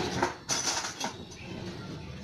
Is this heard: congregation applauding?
no